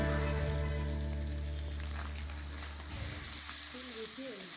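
Potatoes and onions fry together in a pan, producing a soft, even sizzle with faint stirring scrapes, quiet and close, while a low hum runs underneath and no words are spoken.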